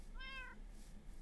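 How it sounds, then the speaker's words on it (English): A cat in the Minecraft video game gives a single short, clear meow, briefly heard over faint background hum. "It meowed in response."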